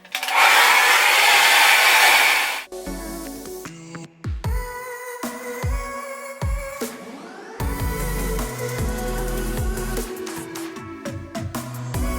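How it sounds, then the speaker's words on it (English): A hair dryer blows loudly for a couple of seconds as hair is dried, then cuts out, leaving a stretch of mixed clatter and music-like tones. "So I'm going to dry the hair, okay?"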